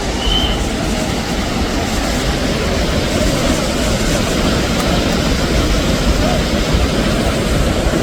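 Athirappilly waterfall in Kerala roaring as a loud, steady, broadband rush of falling water that fills the whole stretch without letting up.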